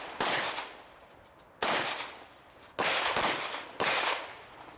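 Four loud pistol shots ring out at an IDPA shooting match at the Mecklenburg Wildlife Club, spaced about a second apart, each with a long echoing decay outdoors.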